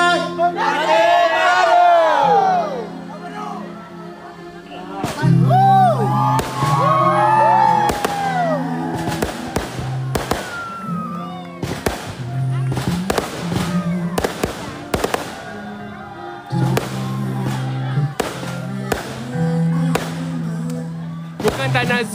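Wedding fireworks bursting in a rapid series of loud, sharp bangs and crackles, with a crowd cheering and shouting between and under the blasts.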